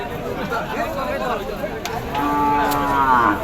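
Cattle moo with drawn-out, wavering calls amid a crowd's chatter and background bustle at the Ratankandi cattle market in Kazipur, Sirajganj, the last low moo rising near the end.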